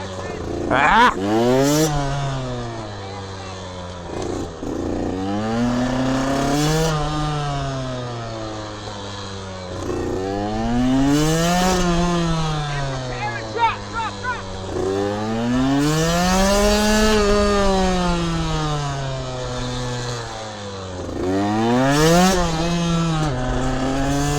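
Small two-stroke mini motorcycle engines whine and rev repeatedly, pitch rising and falling as they accelerate and slow through tight turns of a cone drill, with occasional shouts.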